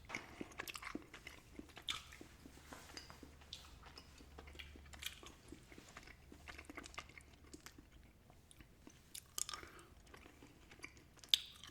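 Mike and Ike Thrill Ride Mix candy is chewed close to the mic, with soft wet chewing and occasional sharper bites in an irregular rhythm, quiet and without talk.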